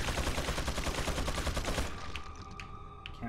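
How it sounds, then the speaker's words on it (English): Minigun fire in the video game Resident Evil 4 rattles out as a loud, rapid continuous burst for about two seconds, then cuts off, leaving only a few faint scattered impacts. "Satan has a minigun"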